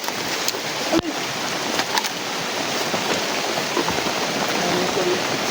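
Heavy rain pours down as a dense, steady hiss and patter, with a sharp knock near the start and a few faint bumps, and no clear talking.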